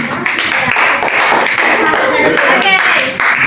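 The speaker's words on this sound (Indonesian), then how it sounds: "berikan tepuk tangan." Classroom students clapping hands together during a math teaching practice lesson, a loud, busy burst of close clapping for a few seconds with voices mixed in.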